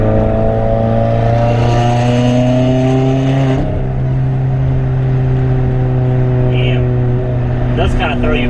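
A tuned 2017 Subaru Forester XT running E50 fuel revs on a dyno, a loud sustained droning engine note that holds high and then drops back, filling the whole stretch.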